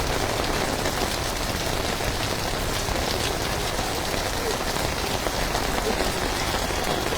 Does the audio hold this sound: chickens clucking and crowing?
no